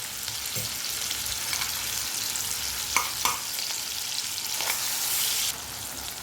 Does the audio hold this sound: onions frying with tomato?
yes